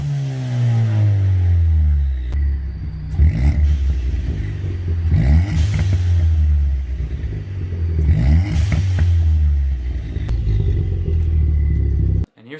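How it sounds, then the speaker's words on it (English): A loud, raspy Ford Fiesta ST exhaust with a custom 3-inch catback, no muffler and no resonator, rumbles close by through repeated revs, rising and falling in pitch, then cuts off abruptly at the end. "a custom 3-inch Catback all the way out. No muffler, no resonator."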